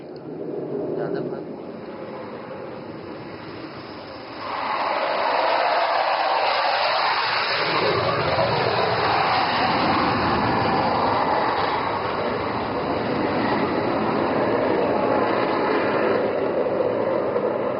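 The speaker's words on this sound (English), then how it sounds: "call sign Abhimanyu 2 जिसका संचालन squad leader Chandgude कर रहे हैं ओवरशूट के लिए अग्रसर है" A fighter jet, call sign Abhimanyu 2, flies an overshoot over the Moran highway airstrip in Assam, its engine roar swelling into a loud, sustained rushing thunder that holds steady to the end.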